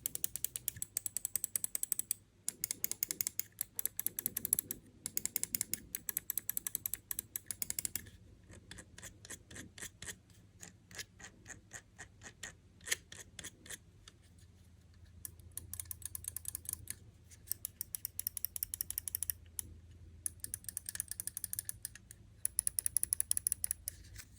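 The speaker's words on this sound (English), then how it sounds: "You could hear that Starlight Pro 10s has much more pleasant sound of left and right buttons" Rapid bursts of sharp mouse button clicks and ratcheting scroll wheel ticks from a Finalmouse Starlight Pro TenZ mouse, close and crisp, with short pauses between runs.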